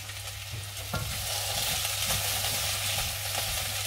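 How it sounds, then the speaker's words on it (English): Steady, dense sizzling of vegetables frying in a saucepan, with a low hum beneath and an occasional clink of stirring. "they're sizzling away nicely"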